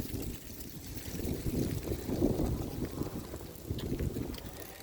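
Cold wind blows outdoors, a continuous low rumbling buffet that swells and eases across several seconds with no talking.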